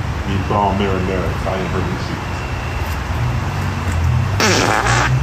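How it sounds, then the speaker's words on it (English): A fart sounds near the end amid background hum, following a stretch of people talking over a steady roadside or air-conditioner drone. "Don't they fart?"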